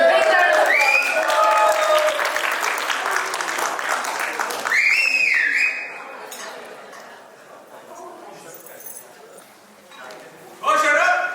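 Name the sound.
audience applause at an anniversary party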